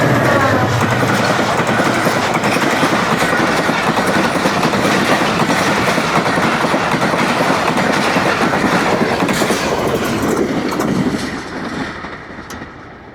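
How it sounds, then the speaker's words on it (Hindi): The 18 Down Millat Express passenger train rushes past a railway station at 107 km/h, its loud, close roar and steady clickety-clack of wheels filling the whole pass before fading as the last cars clear. "एक 107 किलोमीटर्स की रफ़्तार से गुज़र गई 18 डाउन मिलत एक्सप्रेस कराची की जानिब"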